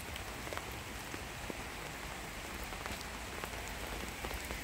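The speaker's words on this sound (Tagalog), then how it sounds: "para hindi ako mabasa ng ulan." Steady morning rain in the Netherlands patters on a surface, with scattered individual drops ticking clearly above the soft, constant hiss.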